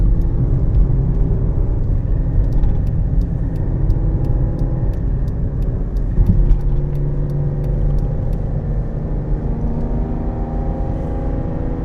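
Toyota Aygo driving at 40 mph on a city road in Manchester, a steady loud engine drone and tyre rumble heard from inside the cabin, with light ticking over it.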